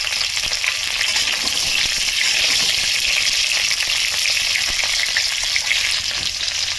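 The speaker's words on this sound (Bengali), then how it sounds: "সবগুলো ভালো করে ভেজে নেব এখন দিয়ে দিচ্ছি ভেজে রাখা মাছের মাথা" Loud, constant sizzling and crackling of fried fish heads added to hot oil with spices, a dense bright hiss that holds steady throughout.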